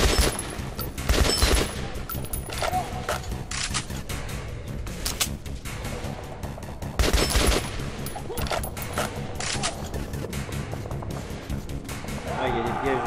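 Gunfire in the video game Metro Last Light, rapid bursts of shots and automatic fire crackling densely throughout with impacts and game effects, while a voice talks over the action.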